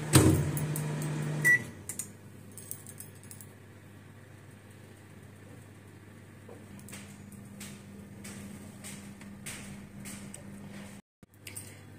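A microwave oven half-cooking a pizza base: some loud handling clicks and a thud at the start, a quiet stretch, then a steady low electrical hum for a few seconds before it cuts off with a click.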